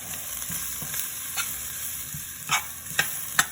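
About a teaspoon of butter melts in a pan with a soft steady sizzle, joined by a few light utensil clicks and scrapes near the end.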